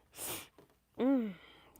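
A single sharp sneeze: a noisy inhaling burst, then a short voiced explosive release, fairly close and alone.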